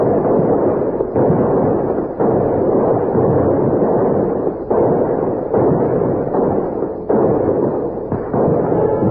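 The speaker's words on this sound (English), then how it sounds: "We're going to fire a salute that'll open every door in town and bring everybody running down to the river" A volley of rifles and swivel guns fires a salute by a river, heavy booming blasts rolling continuously in a dense, loud, reverberant barrage with repeated overlapping thuds.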